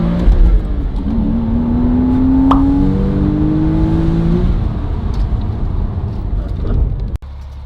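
Porsche Boxster S 986 accelerating briefly, a loud steady engine drone with rising tones as revs climb, close and continuous, ending with a sharp cut.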